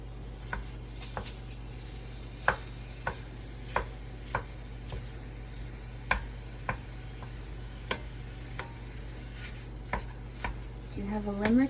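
A spoon stirs biscuit gravy cooking in a pan, making scattered soft scraping ticks at an uneven pace over a low steady hum and faint sizzle, with a brief burst of sound at the very end.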